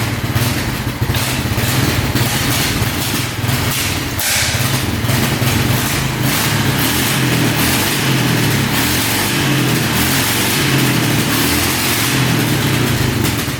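A small Honda ATV engine with an air leak at the boot, sprayed with brake cleaner, revs hard and holds at high speed, loud and close, with a steady rough buzz throughout.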